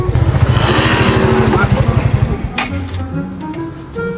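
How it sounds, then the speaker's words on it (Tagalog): A motorcycle engine idles and revs with a rapid, pulsing putter that is loud and close, then fades away as it pulls off, with people talking over it. "Uy, bagong motor dong ah."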